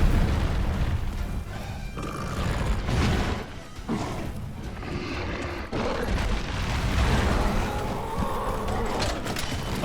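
Monster Hunter World battle against Nergigante, with heavy booming impacts and grinding, creaking mechanical rumbles through dense combat noise, including a sharp explosive burst partway through.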